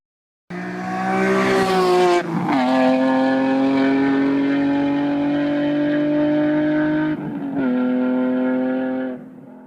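A powerful BMW high-revving six-cylinder engine, redlining at 8,000 RPM, revs hard and holds a high, smooth wail, dips briefly, then climbs again before cutting off abruptly.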